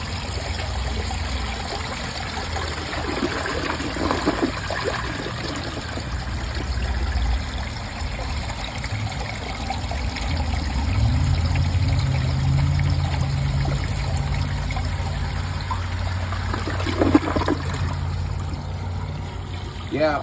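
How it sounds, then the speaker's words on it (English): A 2004 Briggs Altima toilet flushing on the right side, water rushing and gurgling steadily for about twenty seconds, swelling midway as the bowl drains and refills, recorded close up in a small room. "here's a right side flush."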